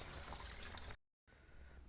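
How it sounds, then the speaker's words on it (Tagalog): Mountain stream water runs steadily with a broad, hissing rush, close and continuous, briefly cut to silence before resuming a little softer. "ito yung tubig natin na galing sa bundok na running water"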